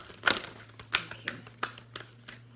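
Tarot cards being shuffled in a series of short papery riffles and taps, about seven soft bursts spaced unevenly, close and fairly quiet over a steady low hum.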